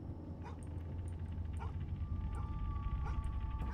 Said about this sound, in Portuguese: Tem cachorro.